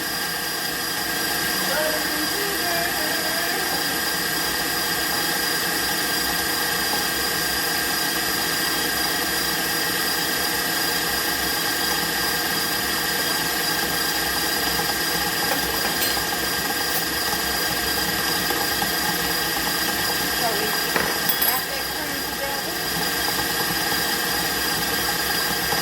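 Electric hand mixer creaming cookie dough in a bowl, a continuous loud whirring motor drone with rattling throughout, steady and close.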